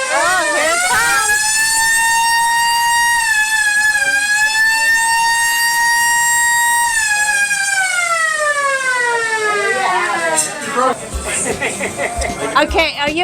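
An emergency-style siren wails loudly in an ice cream parlor, sounded for a sparkler-topped sundae, its rising and falling tone sustained for about ten seconds before people start talking over its fade.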